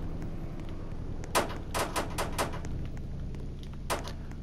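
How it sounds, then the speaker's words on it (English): Gunshots fired through windows in a Roblox hood-style shooter game, several sharp cracks in a quick uneven cluster followed by one more shot after a pause, over a steady background hum. "shoot through the windows"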